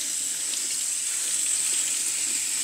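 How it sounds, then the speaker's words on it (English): Strawberries being washed in a big colander under a running kitchen tap, a steady bright hiss of water spraying continuously and fairly close, ending abruptly. "I'm going to dump my berries into a big colander here and give them a good wash."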